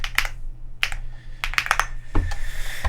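Quick irregular clicks of a computer keyboard being typed on, close and crisp, in short bursts with brief pauses and no talk.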